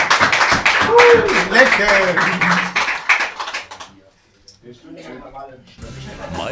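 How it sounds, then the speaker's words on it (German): Enthusiastic clapping from a crowd mixed with excited voices fills the first few seconds, then fades to a quieter murmur. "Applaus!"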